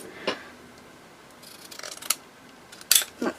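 Scissors snip a few times close up, trimming overhanging card, each cut a short sharp crunch separated by brief quiet rustling.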